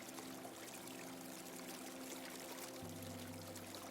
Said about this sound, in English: You see a waterfall. Noticing the immense power of the water